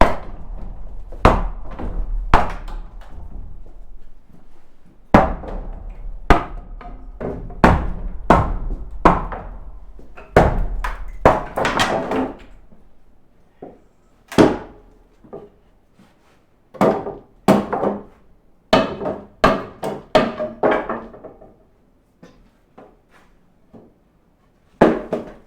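A hammer strikes a rotten wooden post that sits loosely in the ground. Loud, close, irregular thuds come in clusters, some in quick bursts, with short pauses between them.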